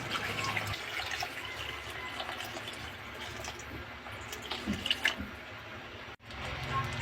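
Water poured into a cooking pot over squash, a faint continuous trickle and splash in a quiet room, with small clinks and a sudden cut near the end.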